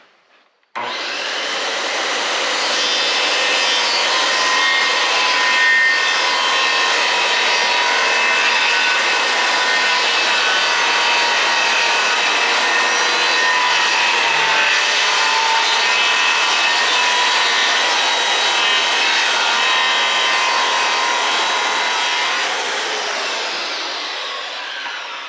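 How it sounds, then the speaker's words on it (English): A miter saw runs a steady, loud cut through a wooden board set at about a 6-degree angle for a 2-inch slope on a simple DIY woodshed, one continuous whine lasting nearly the whole stretch with no talk. "Now this board here is about 6-degree angle on my miter saw on both sides at that 2-inch slope."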